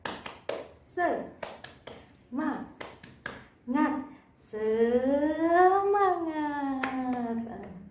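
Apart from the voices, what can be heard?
rhythmic group clapping, 'tepuk semangat' clap chant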